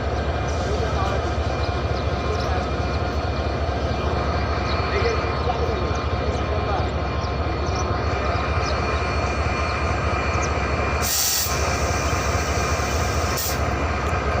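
A train rumbles at Kamalapur Railway Station in Dhaka, a loud, continuous close-up roar of rolling wagons with brief bursts of hissing near the end.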